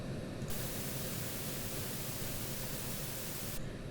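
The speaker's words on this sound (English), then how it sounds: "It is a high-pass dither." Bright high-pass dither noise from the PaulWide audio plugin, a steady hiss of white noise with the lows removed. It runs evenly for about three seconds, then cuts off abruptly, with quieter noise before and after.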